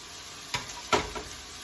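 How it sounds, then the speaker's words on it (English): Vegan Italian sausage sizzling in a pan, a steady close frying hiss with a couple of brief stirring scrapes near the start. "The Italian sausage for our vegan stuffed spaghetti squash is cooking over here."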